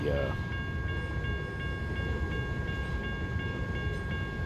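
Heavy train cars rumble steadily past a railroad crossing in American Truck Simulator, with a continuous low roll and faint repeating clicks, and a crossing bell rings high and steady over it.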